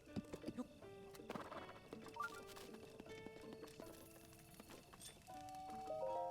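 A horse gallops in the video game Zelda: Breath of the Wild, quick hoof clip-clops repeating over tonal game music, fairly soft, with a little background talk.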